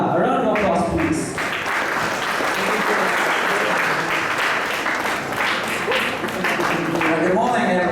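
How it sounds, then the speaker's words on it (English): Loud, sustained applause from a conference audience in Tacloban City welcoming a speaker, dense clapping throughout with voices faintly mixed in. "A round of applause, please."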